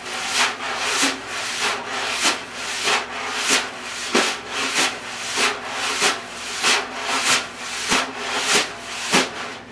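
Jazz drum brushes drag continuously across a drum head, a steady swishing, sandpaper-like hiss pulsing in a regular rhythm, close and alone without talk.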